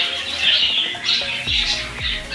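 African lovebird parrots give repeated shrill, scratchy squawks in close overlapping bursts, loud and near, with some low thumps underneath.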